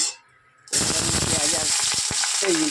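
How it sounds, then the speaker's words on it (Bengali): Green chili and garlic go into hot oil for a green tomato dish. After a brief near-silence, a sudden loud burst of spitting and crackling breaks out and settles into a dense, steady sizzle, close and continuous to the end. "কাঁচা লঙ্কা রসুনটা দিয়ে দিলাম এবার একটু ভেজে নিই এটা"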